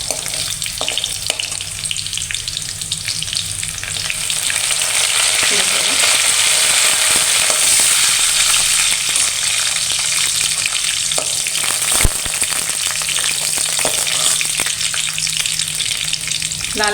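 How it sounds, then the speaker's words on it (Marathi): A tadka of cumin, mustard seeds and garlic fries in hot oil in a kadhai for methi dal, a steady, loud sizzle that holds throughout with occasional stirring clinks and one sharp knock near the end. "आता फोडणी करायची आहे त्याला"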